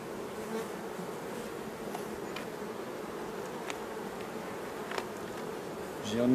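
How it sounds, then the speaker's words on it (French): Honeybees around a beehive with its honey super put back on make a steady, dense buzzing hum, close and continuous, swelling slightly at the end. "Pas trop d'abeilles."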